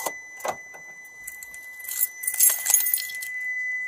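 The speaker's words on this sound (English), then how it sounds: "Can you hand me your keys, please?" Car keys jangle and clink close by as they are passed over during a police traffic stop at night, with a steady electronic tone running underneath and no speech.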